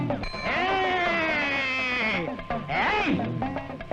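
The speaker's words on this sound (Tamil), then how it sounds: "யாருதுடா இந்த ஆடு?" A goat bleats loudly and up close in a long, wavering cry, pauses briefly, then gives a second shorter bleat, with nothing else competing.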